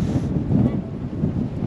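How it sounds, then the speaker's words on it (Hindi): Strong wind buffets a ferry deck on a crossing from Wellington to Picton, New Zealand, a close, low rumbling roar of gusts battering the microphone in uneven surges. "इतनी तेज़ हवा चल रही है।"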